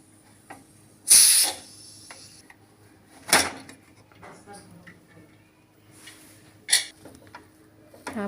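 A pressure cooker releases sharp bursts of steam as its lid is worked open after two whistles, three loud hissing blasts separated by quieter handling noises.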